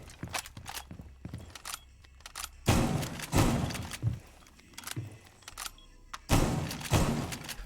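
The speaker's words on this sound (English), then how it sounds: "we're also going to shotgun out the entirety of this red stripe on the wall at foot level" Gunfire and wall-breaching impacts in Rainbow Six Siege on the Castle map: a series of sharp, loud blasts and thuds at irregular intervals, separated by quieter gaps with faint clatter.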